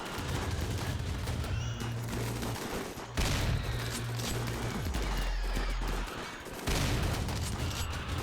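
Gunfire in the Rimworld video game during a battle to storm a wire defence: a dense, continuous fusillade of rapid shots layered over a low droning tone, with short breaks around the three- and seven-second marks.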